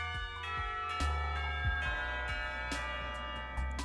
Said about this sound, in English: The ringing of the bell snaps us both back to reality, and we break the kiss.